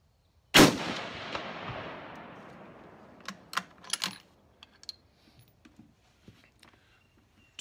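A single loud rifle shot fired over a chronograph, a sharp crack followed by a long decaying echo, then a few faint clicks and handling sounds in a quiet setting.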